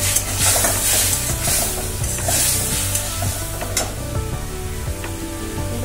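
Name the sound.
green peas frying with spices in a pan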